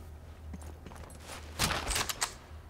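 A short burst of gunfire in the video game Sniper Elite 4: several sharp reports cluster in the second half, loud against a low constant hum, with no talk.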